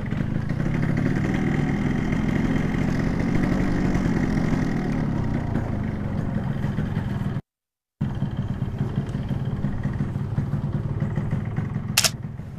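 A 1983 Yamaha RX King motorcycle engine idles close by with a steady, throbbing rumble that drops out briefly midway and then resumes.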